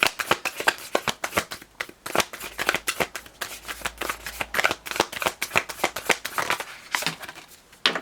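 A tarot card deck being shuffled close up, a fast run of crisp riffling and flicking card sounds that keeps going for about eight seconds, fairly quiet and with no speech over it.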